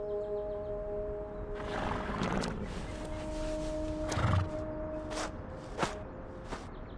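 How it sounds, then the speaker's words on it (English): A horse whinnies loudly in a shaky, rising call in the video game Reverse: 1999, followed by snorts and a few hoof clops, set against a low steady background tone. "Mr. Charon, is this your horse?"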